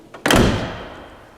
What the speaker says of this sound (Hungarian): Amikor becsukjuk a járműnek az ajtaját, ugye akkor lehet hallani, hogy micsoda iszonyatos tömegű